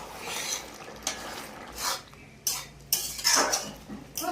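Paneer and vegetables being stirred in a pan, with a few distinct scraping clinks of a metal spoon against the pan in short bursts, close up and without speech.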